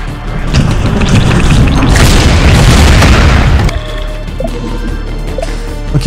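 A loud, rumbling explosion of submunition in the PC game Wall World, with a heavy boom that fills the first few seconds, then fades into lingering debris and ambient game sounds.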